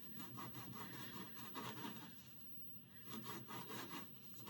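Stiff, crisp shredded pastry for Dubai chocolate bars is chopped with quick, rhythmic crunching and scraping strokes, close and fairly quiet, with a brief pause partway through.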